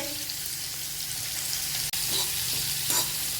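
Cumin seeds roast in oil in a pan on a gas stove, giving a steady loud sizzle and crackle with a brief interruption partway through and light stirring near the end.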